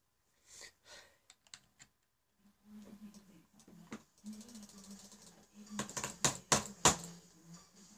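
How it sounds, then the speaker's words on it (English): Scattered computer mouse clicks and taps on a desk while playing Roblox, sparse at first then a quick cluster of sharper knocks as the mouse is slammed on the table near the end, with a faint voice murmuring in between. "that was me slamming my mouse on the table"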